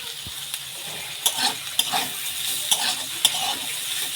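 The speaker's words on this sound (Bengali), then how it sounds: "সবজিগুলো ভালোভাবে কষিয়ে নিয়েছি" Vegetables being stir-fried in a pan, with steady sizzling and several sharp scrapes and clinks of a spatula stirring at close range, no voices.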